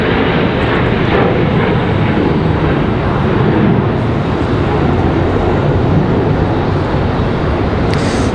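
A Southwest Boeing 737 MAX 8 airliner departs at night, its engines roaring loud and steady as a broad, continuous rush of jet noise that fills the whole stretch.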